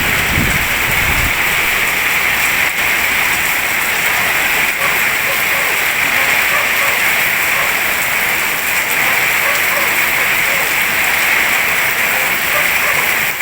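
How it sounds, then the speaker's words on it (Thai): Heavy rain pours down in a dense, constant hiss, loud and unbroken, with a brief low thump near the start. "ตอนนี้ฝนตกแรงมากครับ"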